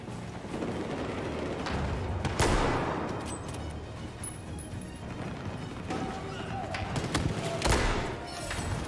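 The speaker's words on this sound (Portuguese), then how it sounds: "Que tiro foi este?" Sniper rifle shots in the Battlefield 4 video game ring out amid busy battlefield noise, with a couple of sharp loud reports standing out over dense gunfire and game ambience, while a player talks.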